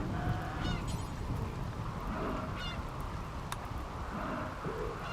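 Geese honk repeatedly in the video game RimWorld, a cluster of nasal calls over a steady ambient background with no talk.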